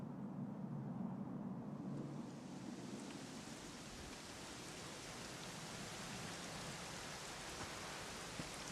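Steady rain falling in a video game cutscene, a dense continuous hiss of downpour at moderate level with no voices, unbroken throughout.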